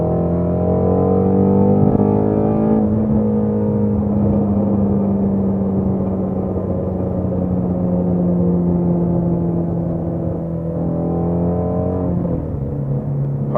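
A Ford Mustang GT350 engine drones loudly and continuously, its pitch slowly sliding as revs rise toward 6,000 RPM, with a sharp shift near the end; no voices.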